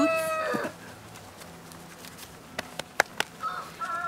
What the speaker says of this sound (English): She is one of the first 3 goats we had.